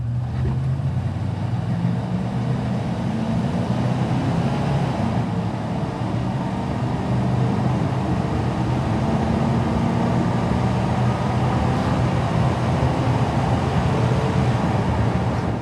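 A steady, loud 5.7 V8 engine roar builds with deep rumbling, heard from inside a 1995 Chevrolet Suburban as it accelerates continuously with no talking.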